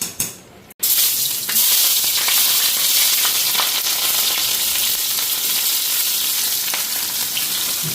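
Chopped onion sizzles hard in a hot pan while noodles boil alongside for egg-and-onion chowmein, a loud, steady, crackling fry that runs nearly the whole time after a brief dip near the start, with no talking.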